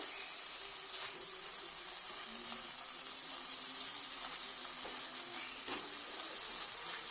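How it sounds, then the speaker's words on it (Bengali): Spices sauté together in a pan for katla posto, a quiet but continuous frying sizzle with occasional stirring clicks, close and without talk. "সব মশলাগুলো একদম একসঙ্গে ভালো করে কষে নেব।"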